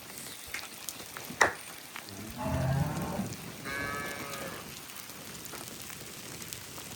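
A big Cholistani Friesian cross cow lets out two low, drawn-out moos in quick succession, fairly close, over a soft hissy background with a sharp knock just before.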